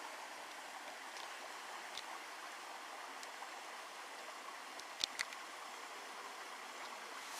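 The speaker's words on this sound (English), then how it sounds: "this babbling brook is where the Timberwolf Creek, I believe, empties into" Small babbling brook in Algonquin Park where a creek empties into a lake, a steady, fairly faint broadband rush of running water continuing without break, with a couple of brief sharp ticks near the middle.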